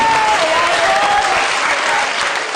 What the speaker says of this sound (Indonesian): Boleh tepuk tangan buat Mas Anies dan Mas Tantowi.